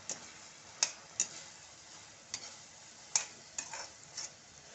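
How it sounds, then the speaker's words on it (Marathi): Spoon scraping and stirring fried soya chunks into soya chilli in a pan, a series of sharp intermittent clicks and scrapes over a faint steady sizzle, close and fairly quiet. "आता आपण फ्राय केलेले सोयाबीन यामध्ये घालणार आहोत आणि पुन्हा एकदा व्यवस्थितरित्या मिक्स करून घेणार आहोत"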